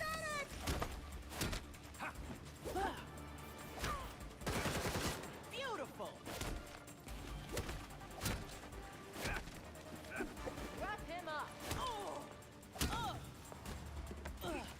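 Gunfire in the video game Gotham Knights: sharp shots crack out again and again through a busy mix of combat effects and game sounds, with voices speaking now and then.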